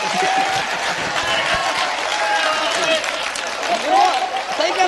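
A Hindi kavi sammelan audience in Danta claps and cheers, a dense continuous wash of applause with crowd voices mixed in at fairly close range.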